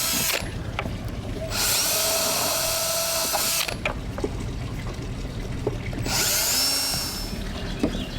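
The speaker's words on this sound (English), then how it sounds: "I now have to drill these holes back out again" A power drill bores out epoxy-filled holes in a boat hatch, whining in two loud bursts of drilling separated by quieter pauses with clicks and handling noise.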